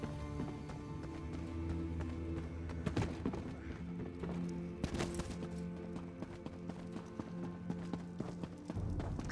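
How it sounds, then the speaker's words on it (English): Rhythmic, clopping footsteps from the video game Elder Scrolls Online in the Wrothgar region, moderately close and steady, set against a sustained droning background of ambient music with a few louder thumps. "I hear the footsteps of an outsider."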